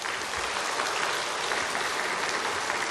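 A church congregation bursts into thick, continuous applause of thanks to God during a sermon, a loud even roar of many hands clapping with no gaps.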